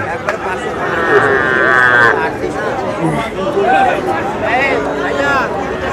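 Cattle at a Shahiwal bull-calf market in Dhelapir low and moo through a dense crowd hubbub, with a long clear moo near the start and further calls amid close chatter from people nearby.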